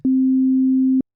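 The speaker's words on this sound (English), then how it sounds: "The most basic wave shape is a sine wave." A single pure, steady low sine-wave tone from a Yamaha DX7 synthesizer holds for about a second, then cuts off cleanly; smooth and unwavering, with no other sound.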